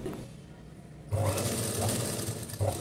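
A sewing machine stitches puff sleeves, its motor starting after a quiet second and then running steadily at close range, with small shifts in speed and no talking.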